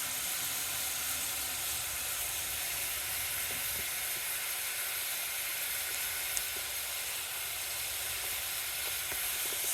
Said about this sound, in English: I want the sizzling ones that you see like in the center